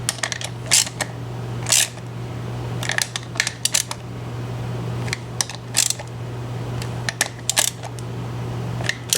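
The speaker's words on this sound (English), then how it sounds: "with barely more weight than this ratchet handle has, I'm gonna just barely get these things snug" A ratchet handle snugs the wheel bolts on a Bounder motorhome, giving short sharp metallic clicks in irregular clusters, close and loud over a steady low hum.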